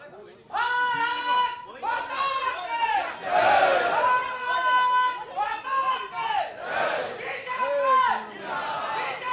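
A crowd at a political party gathering in Assam chants a slogan in loud, repeated call-and-response shouts. The massed voices rise and fall in rhythmic bursts close by.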